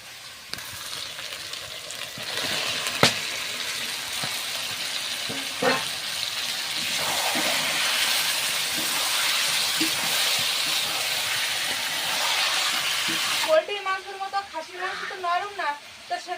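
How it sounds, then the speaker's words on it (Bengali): Mutton fries in a pan with ginger, garlic and onion for a home-cooked meat dish: a loud, continuous sizzling hiss with occasional stirring clatter, which cuts off near the end as a person starts talking. "আদা রসুন পেঁয়াজটা আমার কষানো হয়ে গিয়েছে ভালোভাবে তো এবার মাংসটা দিয়ে দেবো দিয়ে একসাথে ভালোভাবে কষাই করবো"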